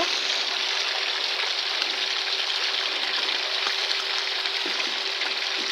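Pieces of home-raised chicken frying in a pan, a steady, close, dense sizzle that holds evenly throughout with no talking.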